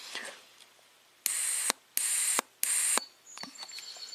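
An EVAP solenoid valve from a Toyota 4Runner, powered straight from a bench voltage supply, snaps on and off in three crisp bursts of buzzing clicks with short pauses between them, close and distinct against a quiet background.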